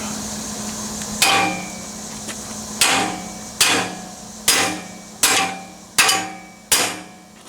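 Hammer blows shaping sheet metal against the frame of a rusty Jeep Wrangler YJ, seven sharp, loud metallic strikes at an uneven, slowing pace, each one ringing and decaying, with a steady low hum beneath.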